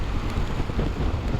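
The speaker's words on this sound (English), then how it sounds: "Did not want rain coming over the pass here." Steady rain falls over a mountain pass during a motorcycle road trip, a dense continuous hiss and patter mixed with low rumble, even and unbroken throughout.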